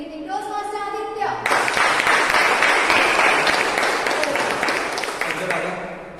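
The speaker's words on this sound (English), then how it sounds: "with a huge round of applause, please welcome the table topics master for today's meeting, Toastmaster Aditya." An audience at a Toastmasters meeting breaks into loud, dense applause after a short spoken introduction, the clapping swelling quickly and continuing steadily for several seconds.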